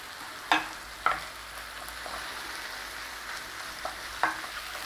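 Mushrooms frying in a pan for a creamy Marsala sauce, a steady sizzle marked by a handful of sharp spatula knocks against the pan, heard up close with no talking.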